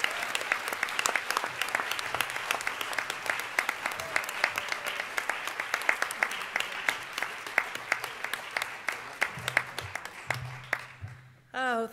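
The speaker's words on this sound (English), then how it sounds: "Let's have a round of applause for this team of authors" An audience claps steadily for a team of literacy research award recipients at an awards ceremony, dense applause sustained throughout before fading at the end.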